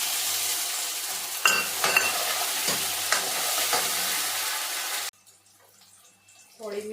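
Tomatoes and chili sizzling in a hot pan, a steady broadband fry with a few clinks of a stirring spoon, cutting off abruptly partway through to a quiet kitchen.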